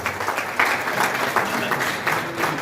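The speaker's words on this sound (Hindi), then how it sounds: "एक बार करतल ध्वनि दिलीप जी के और उनकी पूरी टीम के लिए जो कार्य किया है" An audience applauds at a Lions Club divisional convention, a steady, fairly loud wash of many hands clapping that continues evenly throughout.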